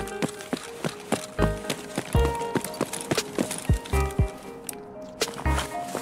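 Footsteps in the tactical shooter Escape from Tarkov, a series of sharp, fairly loud thudding steps in an uneven rhythm, with faint background ambience and no talking.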